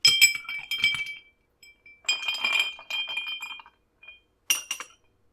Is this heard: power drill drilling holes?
no